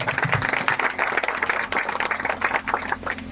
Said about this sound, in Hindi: ताली बजाए प्रभु को धन्यवाद।